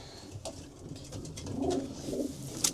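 A racing pigeon in a shed gives a couple of soft low coos, fairly faint and close, amid quiet rustling and faint ambient noise of the loft.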